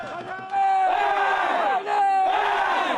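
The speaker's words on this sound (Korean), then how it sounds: "북소리에 맞춰 함성을 지르며" Students cheer for exam takers outside an exam hall at dawn, a crowd shouting loud, sustained chants in rising and falling waves, with a drumbeat meant to keep time but not clearly audible.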